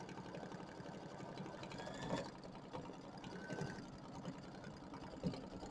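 An embroidery machine stitches applique lines on a bench pillow wreath design, a steady low mechanical whirring and buzzing with faint periodic clicks, heard close and quiet with no voices.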